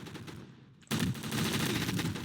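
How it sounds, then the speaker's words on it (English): Rapid automatic gunfire from the video game Gun Fire Arena erupts suddenly after a brief quieter moment, a dense, loud burst of overlapping shots that continues steadily to the end. "Who's shooting me?"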